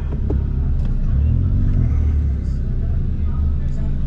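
A VW Up GTI with a faulty gearbox drives along, its engine a steady low rumble that rises and settles as it runs through the gears, with people talking inside the car over it.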